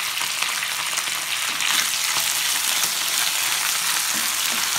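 Mutton pieces sizzle in hot oil over onions already fried golden for a potato mutton curry, a loud, continuous close crackle with occasional stirring scrapes and no talk.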